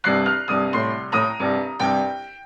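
Six quick, bright piano strikes in a bouncing boogie-woogie rhythm, played alone and up close, the last one ringing out.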